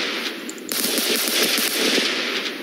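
Rapid automatic gunfire from a modded gun in the Minecraft video game, fired at zombies on a gun server; close, loud bursts of repeated shots in a steady rattling rhythm, with no talking.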